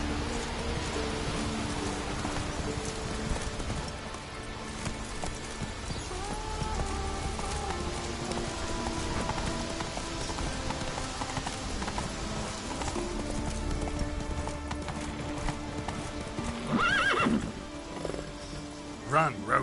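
Roach, the horse in The Witcher 3, gallops with steady, rhythmic clip-clop hoofbeats under rain and game ambience, while someone speaks briefly near the end.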